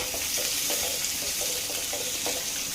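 Onions fry in a hot pan for a chicken dry dish, giving a steady, close sizzle with a faint repeating pulse and no voices.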